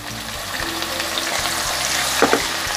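Thinly sliced shallots and garlic sautéing in a pan, a continuous close sizzle with light stirring and a couple of utensil clicks near the end.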